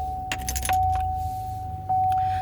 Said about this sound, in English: let me start my car so that we can still see me